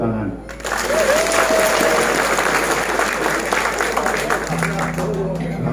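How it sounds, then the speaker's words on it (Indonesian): A crowd at an Islamic boarding school gathering applauds, broad sustained clapping swelling in after a brief pause and running steadily, with a voice and some murmured speech audible beneath it. "Tepuk tangan."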